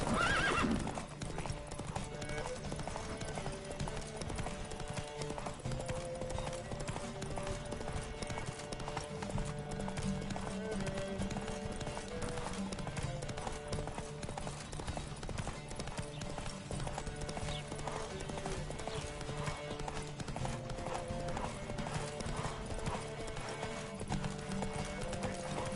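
Horses gallop in The Witcher 3, a steady drumming of hooves with neighs and whinnies over dense game music and ambience, loud and continuous throughout.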